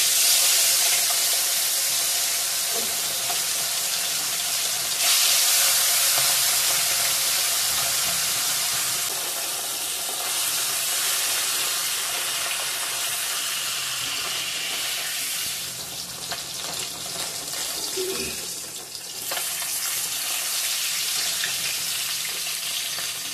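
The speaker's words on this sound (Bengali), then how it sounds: "এখন মাছটা ভেজে নিব" Fish frying in hot oil in a kadai, a steady loud broadband sizzle that holds for the whole stretch with slight swells and crackles, close up and with no talk.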